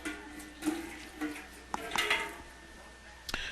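Water runs and splashes from a removed bathroom sink P-trap as the trap is pulled apart with channel lock pliers, mixed with clattering of the fittings and metal clinks, close and fairly loud.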